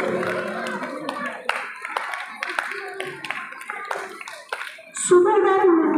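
Audience clapping at a school annual prize distribution ceremony in Karad, a steady patter of hands that swells into louder, fuller applause near the end, with a voice over a loudspeaker and children's voices mixed in.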